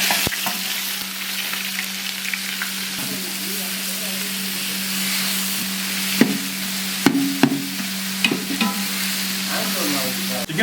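Sliced onions and fennel seeds fry in hot oil for a chicken bonda, giving a steady close sizzle with a few sharp stirring clacks toward the end and no talk over it.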